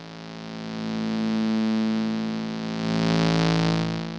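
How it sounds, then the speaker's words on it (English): A sustained synthesized tone runs through a distortion effect, producing a thick, buzzing stack of overtones that swells in loudness and shifts slightly in pitch. "And there are different ways of doing a distortion."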